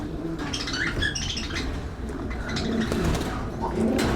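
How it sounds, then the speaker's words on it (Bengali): Pet pigeons or doves in a bird enclosure give soft, repeated cooing calls, close and moderately loud, with scattered chirps and rustling throughout. "এই যে এখানে আছে আপনার কিছু পাখি দেখেন"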